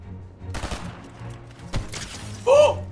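Gunfire in a Fortnite match: several sharp shots scattered across the moment, then a louder burst near the end, with game effects and a faint voice in the mix.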